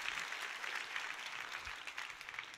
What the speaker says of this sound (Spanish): Démosle un aplauso bien fuerte al Rey